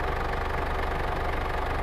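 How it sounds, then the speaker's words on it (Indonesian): A car engine idles steadily just after starting, a close, even low rumble with a faint rhythmic knock and no voices. "mobilnya saya hidupkan"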